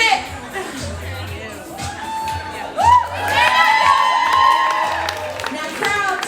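An indoor crowd at an office sales meeting cheers and whoops to urge on participants, a steady wash of shouting and hollering that swells midway, with an announcer's voice talking over it.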